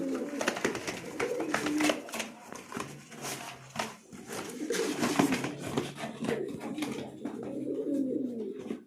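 Lotan pigeons coo steadily in low, throaty rolling calls, several birds overlapping close by with occasional soft rustles and faint background voices.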